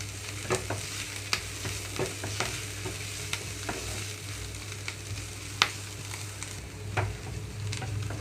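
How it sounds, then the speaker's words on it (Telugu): Tindora and tomato curry with coconut frying gently over a low flame, a steady soft sizzle broken by scattered clicks and scrapes of stirring, close by with no voices. "లో ఫ్లేమ్లోనే ఉంచి రెండు నిమిషాల పాటు ఇలాగే వేయించుకుంటున్నాను"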